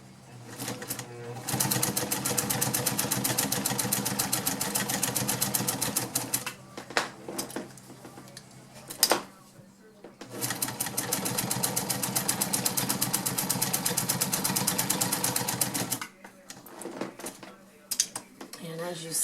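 A vintage White model 533 sewing machine stitches through denim in two long, fast, rhythmic runs of close mechanical chatter, separated by a pause with clicks and handling noise, then stopping near the end.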